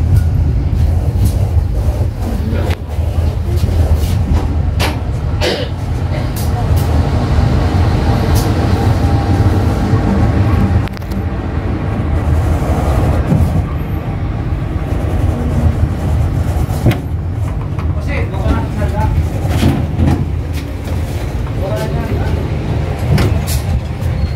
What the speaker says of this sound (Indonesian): Kereta api Kuto Jaya Selatan tiba di stasiun Sidarja